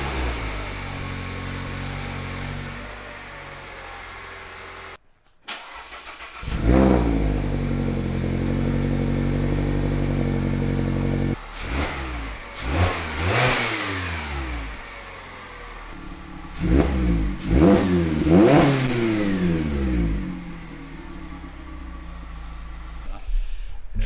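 A Mazda ND2 Miata fitted with a Goodwin RoadsterSport race exhaust cranks and fires up, settling into a loud raspy idle, then several sharp throttle blips rise and fall in quick succession, close by.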